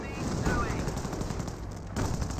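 Rapid gunfire from machine guns and rifles in a Company of Heroes 1 World War II strategy battle, crackling bursts of shots close together in a dense two-second volley, with a commentator speaking faintly underneath.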